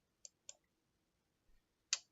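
Faint, crisp mouse clicks at a computer: two quick clicks, a pause, then one louder click near the end, with no talking.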